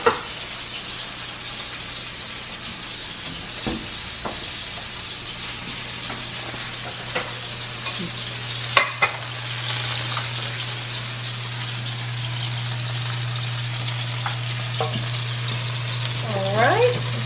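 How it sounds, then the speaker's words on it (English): Rice frying in a pan sizzles steadily and close, with intermittent scraping and clicks as it is stirred, a low hum running underneath. "stir the rice up a little bit"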